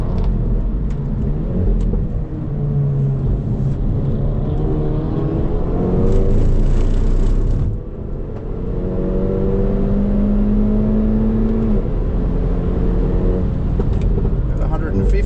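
A 2025 Hyundai i30 N engine pulls hard in third gear on a race track, a steady loud rumbling drone with rising harmonics as revs build, heard from inside the cabin while someone talks over it.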